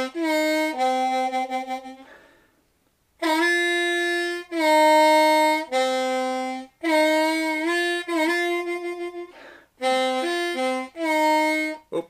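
A blues harmonica plays the intro lick from a song: sustained, bending draw notes in short phrases broken by brief pauses, close and clear with no voices.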